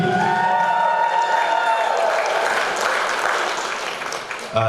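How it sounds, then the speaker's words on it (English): Audience applause at a Bachelor of Education graduation celebration, a crowd clapping steadily with a few cheers and voices, tapering slightly before cutting off. "Can we have another round of applause for Kafo Atu, please?"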